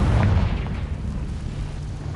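A Confringo spell explodes in Hogwarts Legacy, a loud, deep booming burst at the start that rumbles and fades into a low lingering roar.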